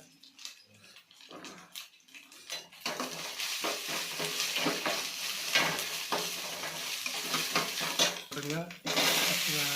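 Ginger paste sautéing in a home cooking pan: a steady frying sizzle fills most of the stretch, with a few stirring scrapes, after a quieter opening of faint clinks.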